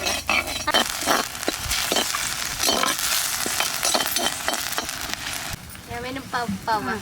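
Prawns seasoned with salt and chili frying and being stirred in a pan during village-style cooking: a loud, continuous sizzle broken by repeated scraping and clinking stirs, with bits of voice toward the end.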